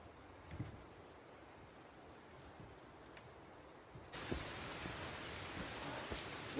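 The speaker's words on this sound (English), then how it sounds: "Working in the rain." Rain falls steadily around a bushcraft camp, a soft, even patter that swells noticeably louder partway through, with faint scattered drops and no voices.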